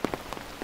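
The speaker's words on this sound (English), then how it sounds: "pouring rain!" Pouring rain drums on a bamboo hanging bridge, a dense patter with a few heavier near splashes standing out in a short burst.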